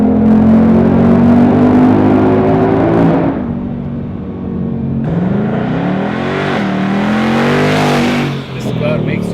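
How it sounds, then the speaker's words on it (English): A loud, deep V8 race exhaust on a Ford Mustang GT roars as the car accelerates hard, pitch climbing through gears with brief drops between shifts. "The race exhaust is just mind-blowing. Superb, so loud and deep and angry."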